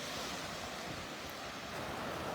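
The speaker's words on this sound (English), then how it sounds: "These waves, the tide must be changing right now." Small ocean waves wash in at a Florida Gulf beach in North Naples, a soft, faint, continuous hiss of surf with light wind and no voices.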